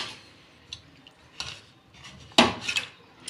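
Stirring mutton curry with added spices and kasuri methi in a pot: a few scattered scrapes and clinks of a spoon against metal, the loudest near the end, close and fairly quiet with no talking.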